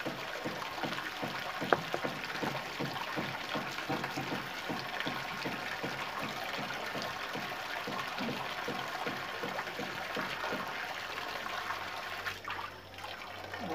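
Water pours and trickles steadily out of a small snakehead fish pond as it drains, a continuous close splashing flow with a faint pulsing rhythm that runs unbroken and ends with a brief dip near the finish.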